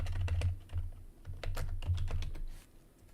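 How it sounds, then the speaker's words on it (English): Paper crinkles and rustles right by the microphone in quick irregular bursts, close and moderately loud, with no talk. "make sure that the paper doesn't crinkle right by the mic"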